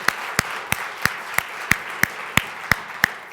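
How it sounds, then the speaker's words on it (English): Applause for the jurors at a student housing design competition final, heard as a thin patter of clapping with about ten sharp, evenly spaced claps standing out, close and fairly loud. "a round of applause for the jurors too"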